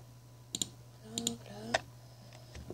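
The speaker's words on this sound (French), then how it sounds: "vous allez peut-être parfois entendre mon clavier" Keys on an old computer keyboard click in a few scattered bursts, short sharp taps in small clusters with gaps between, close but quiet over a steady low electrical hum.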